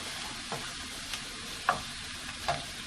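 Cilantro is stirred into shrimp frying in a pan, with a soft continuous sizzle under a few light utensil taps and scrapes spread across the moment.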